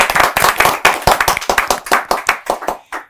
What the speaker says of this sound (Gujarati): ઓન ધેટ નોટ અનીશ માટે ખૂબ બધી તાળીઓ